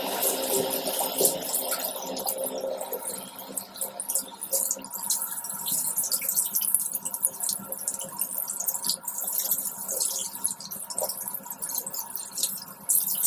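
Tap water runs steadily into a sink while skincare pads are dampened, a continuous close hiss and splash with small fluctuations and no talking.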